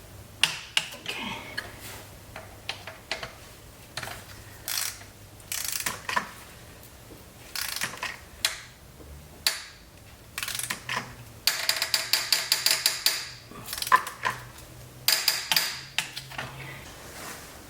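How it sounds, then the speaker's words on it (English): Ratcheting clicks from a torque wrench tightening engine bolts to 50 foot-pounds during an engine repair, coming in short bursts of rapid ticking with pauses between pulls, close and moderately loud. "It's time to set this torque wrench 50 foot-pounds and torque her down."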